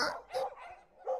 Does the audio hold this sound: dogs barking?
yes